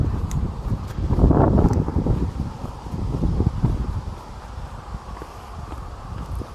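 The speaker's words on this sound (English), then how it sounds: "hope it's not too windy so that you can actually hear what I'm saying" Wind buffeting a microphone outdoors, a continuous rumbling roar that swells in the first seconds and then settles to a steadier, lower gust noise.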